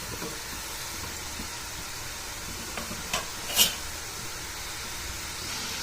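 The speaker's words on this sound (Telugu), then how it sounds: "మంచి కలర్ వచ్చే వరకు మనం వీటిని ఇప్పుడు వేయించుకొని పెట్టుకోవాలి" Jowar flour kurkure frying in hot oil over a medium flame gives a steady, soft sizzle throughout, with a couple of brief louder crackles partway through.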